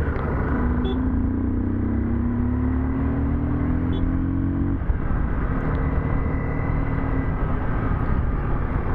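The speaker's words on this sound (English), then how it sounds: "That driver is simply drifting the truck." A truck drifting on a rough mountain road at night, its engine droning steadily nearby with a low tone that climbs and then cuts off, alongside the continuous hum of a CBR250R motorcycle.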